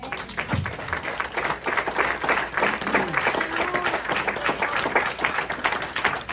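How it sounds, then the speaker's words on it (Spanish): A church congregation applauding during a sermon, steady rhythmic clapping from many hands with some murmuring voices underneath, sustained at an even level throughout. "Eso merece un aplauso al Señor."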